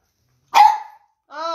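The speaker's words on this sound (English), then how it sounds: "Another dog has arrived." A dog gives two loud, close barks separated by a brief silence, the first sharp and rough, the second more tonal and drawn out.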